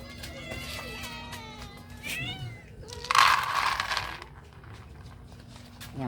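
Cats meowing while being fed fish, several drawn-out, wavering meows up close, one louder harsh cry midway, with a steady low hum and some rustling underneath.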